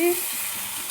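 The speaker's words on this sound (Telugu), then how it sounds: "మనం ఇప్పుడు క్యాలీఫ్లవర్ వేసేసుకుందాం" Cauliflower tossed into a pan of sizzling fried onions gives a close, loud burst of frying hiss that carries on steadily for a moment; a brief voice-like tone is heard at the very start.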